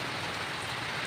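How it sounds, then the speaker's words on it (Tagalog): Steady rain falling outdoors during the rainy season, a dense even hiss of drops on surfaces filling the whole short stretch at a constant, fairly soft level with no other sounds. "ngayong umuulan, ngayong nag-uulan nga"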